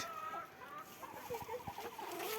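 Backyard hens cluck softly and repeatedly at close range, a few low pulses mixed with quiet ambient noise.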